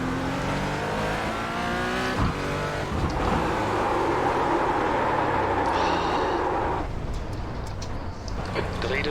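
Porsche 718 GT4 race car engine in iRacing at Summit Point Raceway, a loud steady drone with rising and falling revs through gear changes and a brief tire squeal, with a voice talking over it.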